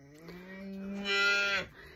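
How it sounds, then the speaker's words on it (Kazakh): A newborn calf gives a single drawn-out moo close by, rising and swelling in strength before fading, with no other sounds around it. "Енді және туған бұзау мүе деп атыр"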